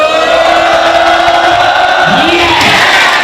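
A seminar audience shouts loudly together in unison, a dense roar of many voices with rising and falling pitch, sustained for the whole stretch.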